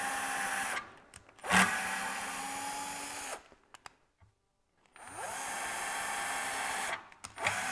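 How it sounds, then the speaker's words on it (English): A power drill drives screws into wood, creating their threads: two long, steady whirring runs split by a short pause, then a quiet gap before a third run, with brief blips between. "by screwing these in, I'm creating the threads that the screw needs to go in there"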